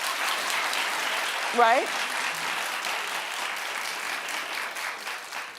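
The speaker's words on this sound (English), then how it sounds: "Clap if you are." A live audience claps steadily throughout, a dense wash of applause that holds at an even level while a lone voice briefly speaks over it.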